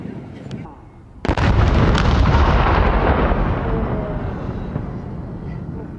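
A historic cannon loaded with gunpowder fires at Old Fort Jackson, a single deafening boom followed by a long rolling rumble that fades slowly, with a voice heard just before the blast.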